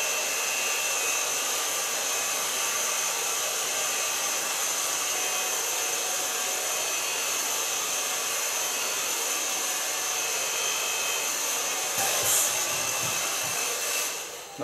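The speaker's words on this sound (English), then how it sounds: "Now, so for blow drying" A hair dryer blowing on hair while it is styled into a Halloween mohawk, a loud, steady whooshing hum that runs unbroken near the microphone, with only a slight change near the end and no talk.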